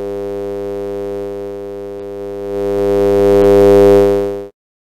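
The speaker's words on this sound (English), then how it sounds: "it sort of just draws the sine wave that we put into the buffer" A steady sine wave tone from a JUCE audio buffer hums alone for about four and a half seconds, rich in evenly stacked harmonics, growing slightly louder toward the end before stopping abruptly.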